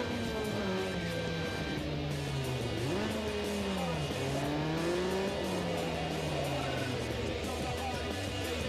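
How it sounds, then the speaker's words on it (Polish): In Need for Speed Underground 2, a car engine buzzes with a thin, lawnmower-like drone, rising and falling in pitch as it revs, steady and moderately loud throughout. "Silnik tak brzmi trochę dziwnie, śmiesznie, jak kosiarka."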